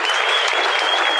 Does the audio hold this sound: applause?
yes